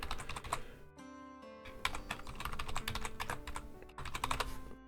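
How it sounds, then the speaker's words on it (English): Rapid keystrokes clatter on a computer keyboard, close and soft, in quick bursts with a couple of brief pauses between runs of typing. "little typing ASMR"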